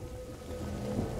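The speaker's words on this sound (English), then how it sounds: "Lucas, Hugo, stay out of the rain." Steady rain in the video game A Plague Tale: Innocence, a continuous close hiss of falling water over a low rumbling bed that swells slightly near the end, with no voices.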